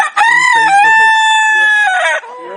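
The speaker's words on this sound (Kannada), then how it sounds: "ಇದು ಕೋಳಿ ಸೈಕ್ ಕೋಳಿ" A rooster crows in the morning: one long, loud, close cock-a-doodle-doo that rises, holds steadily and then drops off at the end.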